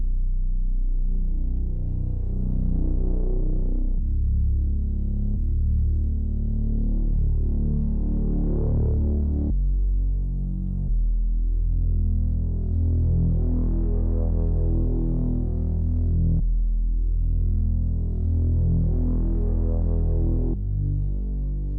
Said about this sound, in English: So this is what the bass sounds like.